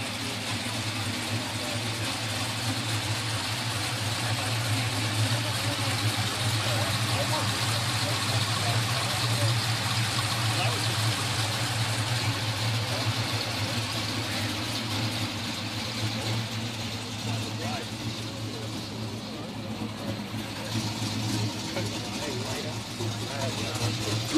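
A 2004 Honda S2000 with a cold air intake and stock catalytic converter idles steadily nearby, its low even hum continuing for over twenty seconds beneath some talking.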